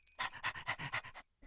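A cartoon dog pants in quick rhythmic breaths, about eight short puffs in a row, then briefly goes quiet.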